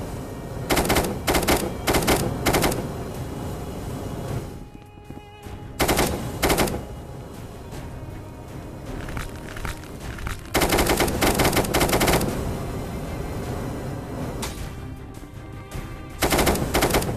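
Rapid bursts of automatic gunfire in the VR game Rec Room, several loud rattling volleys separated by short pauses, close and dominant with no talking.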